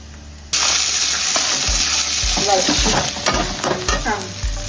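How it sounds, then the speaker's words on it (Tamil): Fennel seeds, dried red chillies, cinnamon and cloves roast and sizzle in a hot pan for a Pallipalayam chicken gravy, with steady crackling frying noise and repeated scraping stirs and clinks of a spoon, close and loud, no talking. "சோம்பு, காஞ்ச மிளகா, பட்டை, லவங்கம் எல்லாம் போட்டு இது வறுத்துக்கு"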